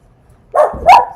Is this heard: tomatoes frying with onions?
no